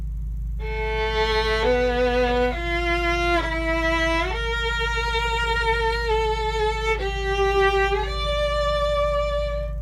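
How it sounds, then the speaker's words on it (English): A melodic passage from the first movement of Shostakovich's concerto, with a sustained bowed string line moving through the four-note DSCH motive and its variants, played with rich harmonics over a steady low hum. "This is an excerpt from the first movement of the Shostakovich Concerto."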